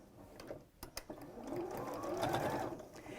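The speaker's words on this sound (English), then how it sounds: "now you want to do your tacking stitch within the seam allowance" A sewing machine runs a tacking stitch within the seam allowance of a dressmaking piece, a steady close mechanical whirr with a few sharp ticks at the start and no talking.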